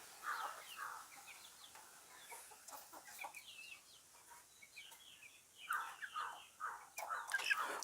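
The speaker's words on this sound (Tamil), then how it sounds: "ஒல்லடியன் கோழி குஞ்சு" Hollandian chicks and hens clucking and peeping in a steady scatter of soft, close calls, with a few louder bursts near the end.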